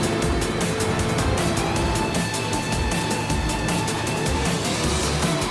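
Race car engine in CS Unsanctioned drones steadily and loudly for several seconds, a continuous motor roar with a constant hum and no pauses.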